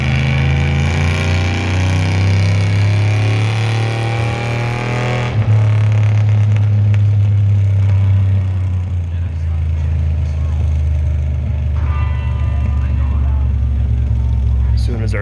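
Car engine idling and revving at the Back to the Bricks car show at Birch Run Speedway, a loud, steady low rumble with rising revs, then gradually settling, while an announcer talks over it.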